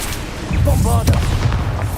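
A Bombarda blast spell in Hogwarts Legacy, a deep loud boom swelling halfway through, with rumbling low-end debris under a voice and game noise.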